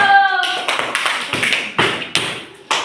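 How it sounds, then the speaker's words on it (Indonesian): A classroom of students clapping for a classmate, a few loose, uneven claps and taps close by, sparse and irregular rather than a full ovation, with a tonal voice at the very start. "tepuk tangan sama si Rando"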